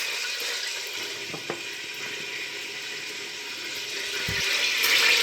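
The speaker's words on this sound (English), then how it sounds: "So actually you can get the sound of the oil." Cooking oil sizzles and crackles in a pot for a vegetable soup, a steady hiss with occasional soft clinks and stirring knocks that grows slightly louder toward the end.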